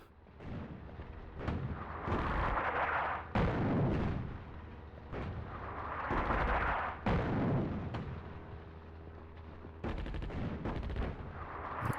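Artillery fire in the North Africa real-time strategy game Attack at Dawn: repeated heavy booming shots and rumbling blasts, loud and spaced a second or two apart, with no talking.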